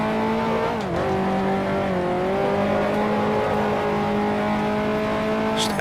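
Engine of a 1955 Formula One race car in the Grand Prix Legends driving game, a loud continuous whining drone that dips briefly as the throttle eases, then holds steady, with no talk.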